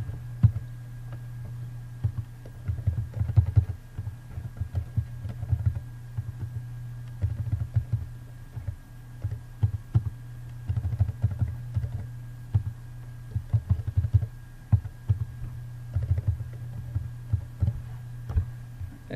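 Computer keyboard typing as transponder numbers are entered into race timing software, with steady clusters of light key clicks over a low constant hum, close and alone.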